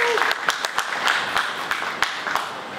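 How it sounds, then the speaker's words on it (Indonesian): Audience applause at a press conference as a celebrity is invited up to speak; a burst of clapping with distinct sharp claps, mixed with crowd murmur and voices. "Boleh tepuk tangan untuk Raffi Ahmad."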